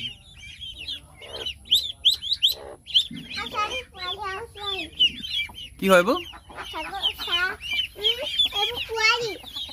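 Ducklings peep and chirp in rapid, high bursts close by, with clucking from their mother among them, while people talk over the calls in a rural village setting.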